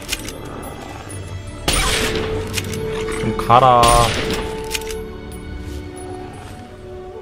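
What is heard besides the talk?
gunfire in the video game Fallout 3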